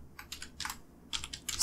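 Typing a chapter title on a computer keyboard, several quick clusters of close, crisp key clicks in a short irregular rhythm with brief pauses between bursts, with no talking.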